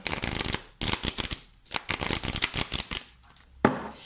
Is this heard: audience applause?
no